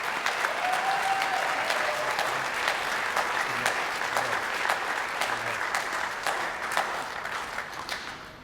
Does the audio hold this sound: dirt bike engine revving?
no